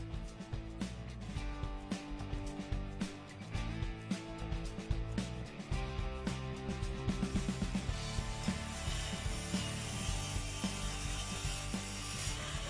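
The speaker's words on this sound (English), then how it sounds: "Let's take a look at how the Lumberlock works." A Lumberlock vise clamping tool is worked by hand, with fast, close ratcheting clicks at first. These give way to a denser, continuous mechanical grinding and rubbing. No talk is heard.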